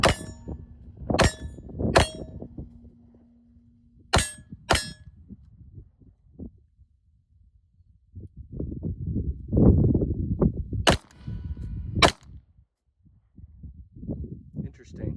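A Canik Mete SFT race pistol fitted with a Z&R tactical guide rod fires about seven loud, sharp shots in small irregular groups, with someone talking in the pauses.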